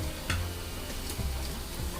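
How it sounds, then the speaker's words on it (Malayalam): Onions sautéing with spices in a pan, a steady soft sizzle broken by a few brief stirring scrapes, close but fairly quiet, with no voices. "എന്നിട്ട് നമുക്ക് മറ്റുള്ള മസാലകൾ ചേർത്ത് ശരിക്കും വഴറ്റി എടുത്തു കേട്ടോ."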